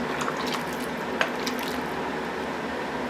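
Pumpkin vegetable soup simmering in a pot, giving a soft steady bubbling hiss with faint scattered pops and drips, close and quiet.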